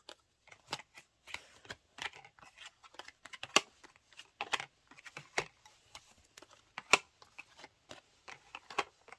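Cards are shuffled in quick, irregular bursts of sharp riffling and flicking, fairly quiet and close, with short pauses between.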